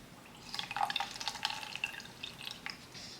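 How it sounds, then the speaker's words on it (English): Water is squeezed out of a soaked beauty blender makeup sponge, giving a run of wet squishing, dripping and squelching sounds close up. "So you're gonna squeeze all the water out"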